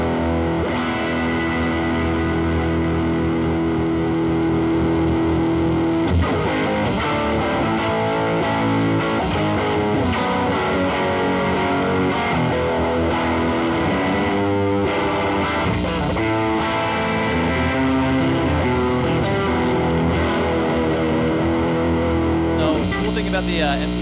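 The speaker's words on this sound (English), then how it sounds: "The MTGLA is a true tube distortion that we designed with Bruce Egnater" Electric guitar played through a Fender MTGLA tube distortion pedal with heavy gain, thick saturated riffs and sustained chords filling the whole stretch, loud and close, with a brief pause near the end.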